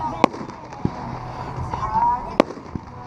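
Consumer firework, the Death Bomb by Pyro Demon, going off at a fireworks demonstration: two sharp loud bangs separated by about two seconds, with a few duller thumps and crowd murmur in the background.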